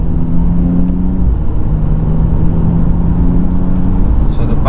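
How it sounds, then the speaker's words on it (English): BMW engine revving inside the cabin as the paddle shifter is used, a loud steady mechanical drone with a low pitch that rises and falls slightly, continuous throughout with no talking. "Now I'm trying on the paddle shifter"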